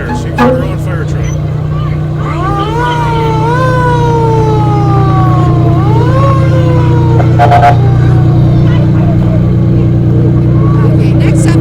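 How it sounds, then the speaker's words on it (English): Fire truck siren at a St Patrick's Day parade in Palatine, wailing up and down steadily over a loud idling engine drone, with crowd noise and talk around it. "She got her own fire truck."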